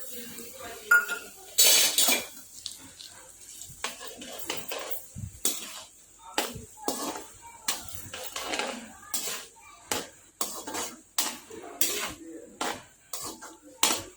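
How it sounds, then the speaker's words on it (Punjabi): Poppy seeds roasting in ghee in a pan, a metal spatula scraping and clinking against the pan in a steady series of sharp strokes, close and fairly loud over a faint sizzle. "ਹੁਣ ਆਪਾਂ ਘਿਓ 'ਚ ਖਾਸ-ਖਾਸ ਭੁੰਨ ਲਵਾਂਗੇ"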